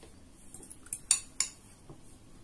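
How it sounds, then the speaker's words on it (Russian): A knife slices crosswise through a boiled egg for a New Year salad, giving a few light, close clicks as the blade meets the plate, with no voices. "Одно яйцо я разрезаю поперек пополам."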